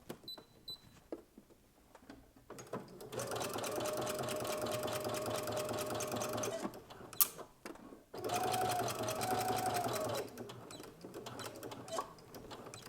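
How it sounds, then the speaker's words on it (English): Sewing machine running a basting stitch up the side seam of a knit skirt with a slit, a close steady mechanical whir in two long bursts separated by a brief pause and a click. "to sew the side seam of the skirt with the slit, I'm going to start with a basting stitch"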